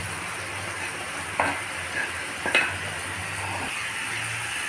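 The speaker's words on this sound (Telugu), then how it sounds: "ఇప్పుడు పప్పు వేసేస్తున్నాం." Moong dal being added to a pot of cooking bottle gourd and stirred, with a few soft scrapes and clinks of a spoon over a low, steady simmering hiss, close and fairly quiet.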